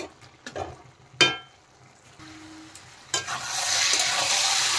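Bottle gourd cooked with a catla fish head is stirred in a pan: a few scraping strokes, then a quiet pause, then frying sizzle swelling up and holding near the end.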